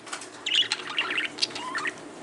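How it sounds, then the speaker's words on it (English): Pet birds indoors chirp and call in quick, bright bursts, several short tweets and squawks packed close together, fairly near and with no talking. "My birds are louder than me, so I have to yell."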